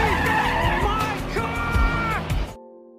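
A car tears away with tires skidding and squealing loudly over a revving engine for a couple of seconds, then cuts abruptly to quiet low background music.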